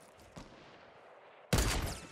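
Gunfire in the Fortnite video game, a single distant shot followed by a sudden loud burst of rapid shots close by near the end.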